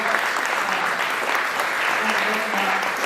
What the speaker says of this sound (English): big round of applause for Samir